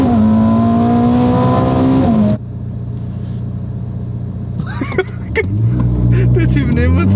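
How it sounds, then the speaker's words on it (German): Ferrari sports car launching hard from a standstill, a loud rising engine wail that cuts off abruptly, then a lower rumble before more revving and roaring returns, with voices talking inside the cabin. "Wir sind 3 Sekunden beim Losfahren auf 100 jetzt."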